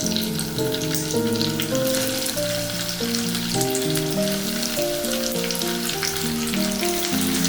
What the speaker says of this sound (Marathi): आता मी तुम्हाला 2 वड्या तळून दाखवते।